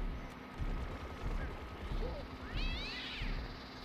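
A cat meows once amid the busy action of Plants vs. Zombies: Garden Warfare 2, a brief rising and falling call over constant game noise and gunfire-like bursts.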